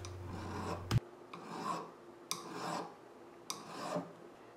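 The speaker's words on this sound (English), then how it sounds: "The punch marks are then cleaned up with filing and a little bit more polishing to create a beautiful finished rim" A sterling silver bezel setting on a turquoise ring is filed: slow, soft rasping strokes, about four of them spaced evenly, close and fairly quiet over a faint room hum, with a sharp tap near the start.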